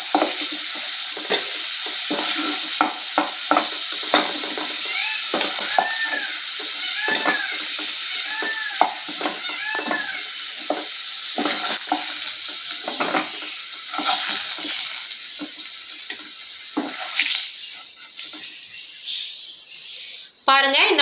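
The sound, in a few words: potatoes frying in oil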